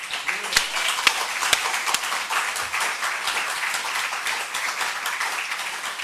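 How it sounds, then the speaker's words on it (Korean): A church congregation at a revival meeting bursts into sustained applause, dense clapping filling the space steadily from start to finish, with a few sharper individual claps standing out. "성령님께 박수 한번 크게 올릴까요?"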